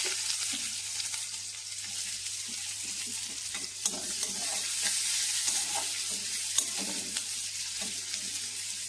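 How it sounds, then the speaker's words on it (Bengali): Chopped onion with cinnamon, cardamom and cloves frying in oil for a chicken dish, a steady close sizzle with repeated spatula scrapes and stirring knocks throughout, no voices. "সেগুলোকেও একটু নাড়াচাড়া করে নিয়ে দিয়ে দিচ্ছি কেটে রাখা পেঁয়াজ"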